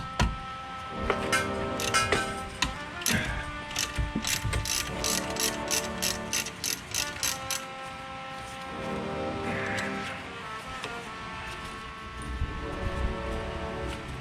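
Ratchet with a T45 hex bit backing out an Allen screw on a 2005 Volvo S80 rear brake job: rapid metallic clicking in bursts across the clip, close and clear, with no talking.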